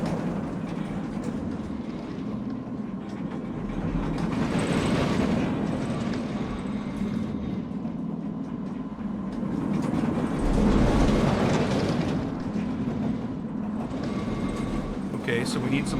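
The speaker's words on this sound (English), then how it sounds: "There's a train leaving right now." A ride train leaves the station in the video game Planet Coaster with a steady rumbling clatter that swells twice, while a person talks over it.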